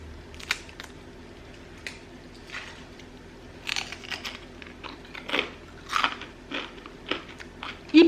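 Crispy curry and grated cheese snack crunching up close in a quiet kitchen, a run of sharp, irregular bites and crackles that grow louder toward the end, with no talking.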